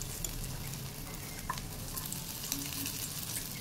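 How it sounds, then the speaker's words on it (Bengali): Poppy seed fritters (posto bora) frying in hot oil give off a steady, close sizzle and crackle that runs unbroken throughout, with no voices. "তেল গরম, পোস্ত বড়াগুলো ছেড়ে দিলাম, তেল গরম হয়ে গেছে।"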